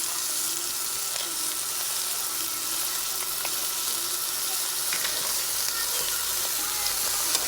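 Crabs tipped into a pan of eggplant cooking in coconut milk give a dense, steady hiss and watery bubbling throughout, loud and close, with faint scraping and no speech.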